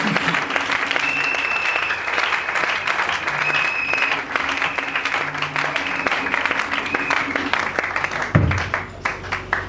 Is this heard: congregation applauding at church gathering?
yes